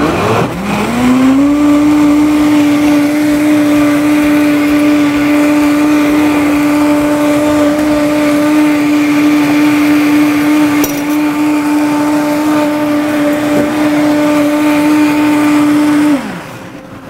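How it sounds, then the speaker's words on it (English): Countertop blender whizzing ingredients for Mongolian hot pot, a loud steady motor whine that spins up sharply, holds an even high drone for about fifteen seconds, then cuts off; no talking. "Once you've put everything into your blender, you're just gonna whiz it up, and it doesn't take long to do it."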